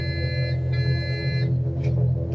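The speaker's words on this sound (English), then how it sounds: "when you drop the manifold pressure under 15 inches of pressure, and your gear is up, you get a warning in the cockpit" A Cessna 182 RG II gear-up warning in Microsoft Flight Simulator 2020 sounds as a steady electronic tone with stacked harmonics, holding about a second and a half over the constant low drone of the engine in the cockpit, then cutting off.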